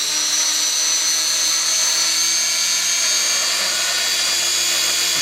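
An RC helicopter hovers on a simple test stand, its rotor and motor giving a steady, high-pitched whine with a constant buzzing drone, close and unbroken throughout.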